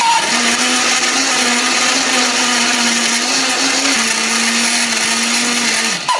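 A blender whirs steadily and loudly at close range for several seconds, grinding spices with a little water into a wet paste, then cuts off abruptly at the end.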